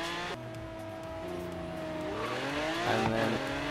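A race car in Forza Horizon 3 brakes hard into a turn. Its engine drones, then its pitch drops and climbs again as it revs back up, with a hint of tire noise and no talk.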